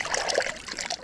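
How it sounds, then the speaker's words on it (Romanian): A fish released by hand back into the water on an angling trip in the Danube Delta, giving a short burst of close splashing and splattering. "Pește, merge în apa."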